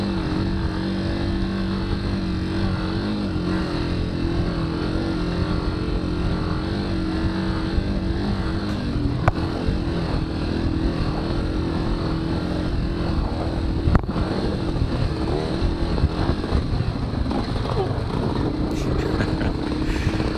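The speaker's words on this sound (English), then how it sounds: "I got this Honda CRF 250F, and it's a trail bike." A Honda CRF 250F trail bike engine drones steadily and loudly throughout a sandy hare scramble race ride, with a constant revving roar that barely changes pitch.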